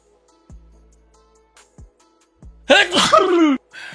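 A single loud sneeze bursts out near the end after a few quiet knocks and breaths, close to the microphone, in an otherwise quiet room.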